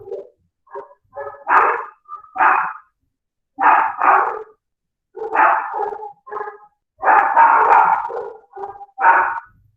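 A dog barks in repeated bursts of several quick barks separated by short silences, fairly loud and close, alone with no talking over it.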